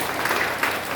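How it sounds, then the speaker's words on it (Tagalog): A church congregation claps together in a short, dense burst of applause, steady and fairly loud. "Pumalakpak ng malakas sa ating Panginoon"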